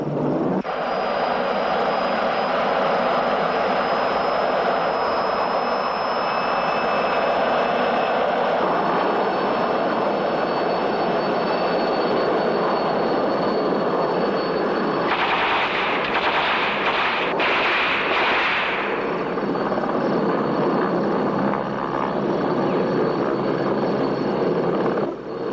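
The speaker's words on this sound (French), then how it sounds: "L'hélicoptère est derrière nous." A loud, steady aircraft engine roar, helicopter-like, fills the whole stretch, with a harsher rumbling surge partway through before settling back.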